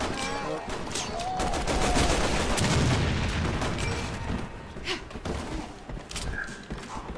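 Dense, sustained gunfire from the video game Resident Evil 6, rapid overlapping shots and bursts filling the whole stretch at steady loudness, with occasional heavier thuds mixed in.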